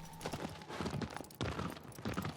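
Horse hooves clip-clop through a game scene in Shadow of the Colossus, with a steady run of close, rhythmic hoof beats at moderate loudness. Occasional voice-like murmurs sit in the background.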